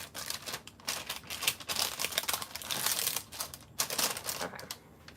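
Plastic wrapping crinkles and rustles while cake pops are made, in irregular bursts of crisp crackling, close and fairly loud, alone without talk.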